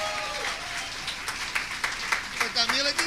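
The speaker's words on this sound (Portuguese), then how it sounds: "Aplauda o Senhor pela vida dele" A church congregation applauding at a spiritual warfare seminar, a steady wash of clapping with sharper individual claps near the end and a voice speaking over it.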